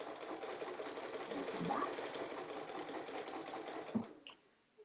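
A sewing machine stitches a quilt panel in a fast, even whir that runs for several seconds before stopping, with a brief voice near the end and a small clack as it halts.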